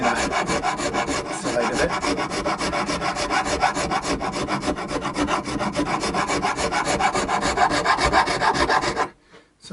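A Shinto rasp files wood in fast, regular back-and-forth strokes, a dense scratchy rasping that runs steadily for several seconds before stopping abruptly; a voice speaks briefly.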